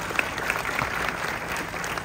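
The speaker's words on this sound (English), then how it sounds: "Let's give him a round of applause." A conference audience at the 2024 M.I.C.E. event in Clark gives a loud, sustained round of applause, a dense even roar of many hands clapping at close range.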